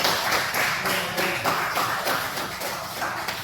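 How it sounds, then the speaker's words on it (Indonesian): Students at SMK Negeri 2 Mandau clapping in a classroom, a rapid, dense burst of many hands with a brisk, uneven rhythm, close and fairly loud throughout. "Tepuk tangan teman-teman."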